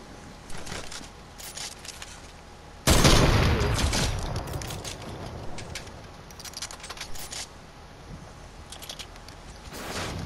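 Video game gunfire in a shooter match, with shots blasting out from about three seconds in and scattered reports continuing, loud and close, with lighter clatter in between.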